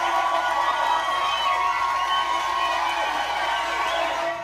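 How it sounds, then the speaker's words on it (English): An audience at a pageant-style show cheers and whoops for a contestant, a dense burst of crowd shouting with children's voices that stays loud and then tapers at the end. "Let's give a round of applause for Miss Evergreen"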